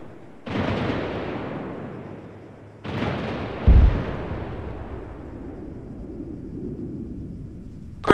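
Javelin missile strikes explode in a military video game, two heavy booming blasts with long rumbling decays, the second followed by a thump and continued low rumble, with no talk.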